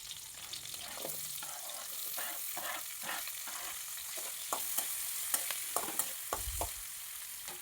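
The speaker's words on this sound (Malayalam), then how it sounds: "ഇത്രയും സാധനങ്ങൾ ഇട്ടൊന്ന് വഴറ്റിയെടുക്കാം." Onion, green chili and curry leaves sauté in hot oil, giving a steady soft sizzle broken by repeated scraping clicks of a spoon stirring through the pan, alone with no voices.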